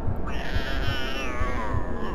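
A cat in the PS1 Harry Potter and the Philosopher's Stone game yowls in a continuous drawn-out meow over a low rhythmic background pulse, loud and near.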